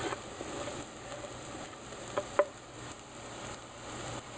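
Garlic added to onions and peppers already softened in a pan, giving a low, steady sizzle with a few soft scrapes of stirring and one sharper clink partway through.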